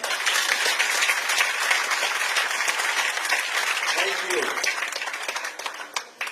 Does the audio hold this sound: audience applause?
yes